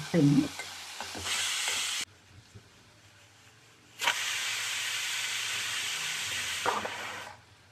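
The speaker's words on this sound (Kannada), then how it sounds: "ಟೊಮೆಟೊ, ಎಲ್ಲ ಚೆನ್ನಾಗಿ ಆಯಿಲಲ್ಲಿ ಫ್ರೈ ಮಾಡ್ಕೋಬೇಕು." Tomato and other ingredients fry in oil for a Karnataka-style avarekalu huli saaru. Loud, close sizzling comes in two bursts, a short one and then a longer steady hiss, with a quieter stirring pause between them.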